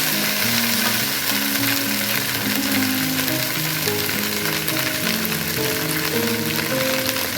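Cut okra stirred in a hot frying pan, a dense steady sizzle with scraping strokes of the spoon throughout, close and fairly loud, with no talking.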